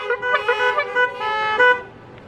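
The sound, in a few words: car horns honking four times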